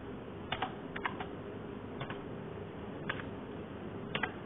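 Typing on a computer keyboard while entering Arduino program code, a sparse run of close, crisp key clicks in small clusters with pauses between.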